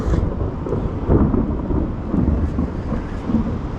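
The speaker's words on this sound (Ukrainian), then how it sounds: "Ух, гримить." Thunder rumbles low and heavy as a storm approaches an outdoor fishing spot near a bridge, a continuous deep roll with swelling peaks and no voices.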